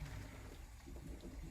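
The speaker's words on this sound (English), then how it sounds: "I'm gonna carry this over to my colander and drain it" Cooked ziti pasta and its hot water poured from a pan into a colander, a steady low rushing gush of water draining through the holes, continuous and fairly loud for the whole moment.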